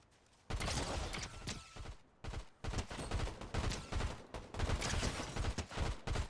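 Gunfire in a video game shootout, with loud, rapid bursts and volleys of shots crackling almost continuously, broken by a few brief pauses and with no talking.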